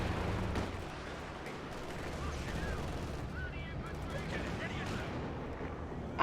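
A time-on-target artillery barrage in Company of Heroes 2 on the Steppes map during a 4v4 match, with a steady roll of shell blasts and gunfire under continuous talk from a caster.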